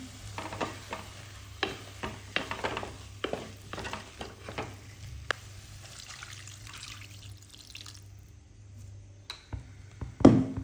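Spiced egg curry masala with eggs is stirred in a pan: a run of sharp spatula clinks and scrapes over a soft, steady sizzle, slowing after about eight seconds, then one louder knock near the end.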